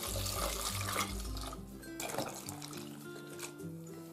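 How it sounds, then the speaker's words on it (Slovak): Boiling water, three litres, is poured over apples, apple peels and rose hips for a non-alcoholic punch, a close, bubbling splash that gushes and then settles into a gentler trickling pour. "zalejeme 3 litrami vriacej vody"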